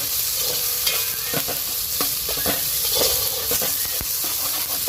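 Ginger garlic paste sautéing in a pan for Pallipalayam chicken, a steady close sizzle and hiss broken by repeated scraping clicks of a spoon stirring, with no voices.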